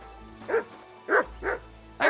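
A dog in Kingdom Come: Deliverance II gives four sharp barks in quick succession, close and clear against a quiet low hum.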